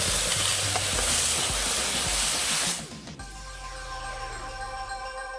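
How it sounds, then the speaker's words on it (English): Garlic and chilli paste frying in a pan with steady broadband sizzling and stirring scrapes, first loud and dense, then quieter after a few seconds with a steady tonal hum under the softer sizzle. "Stir a bit so that the moisture of this paste would get a little dry"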